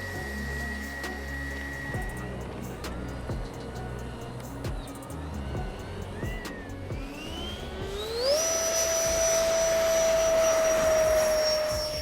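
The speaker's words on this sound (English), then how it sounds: "It was time to taxi her out to the runway and get her flown at last." A Freewing F-4 Phantom RC jet taxiing out to the runway, its electric ducted fan whining steadily, then rising sharply in pitch and loudness as it spools up into a sustained high whine.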